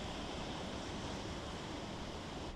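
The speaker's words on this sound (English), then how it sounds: "The sound of these waves is really nice." Ocean waves washing onto rocks by a lighthouse, a dense, steady roar of surf heard as continuous broadband wash at moderate distance with no distinct breaks.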